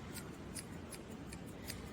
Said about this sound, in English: then I get the scissors and cut up into that to give it a nicer look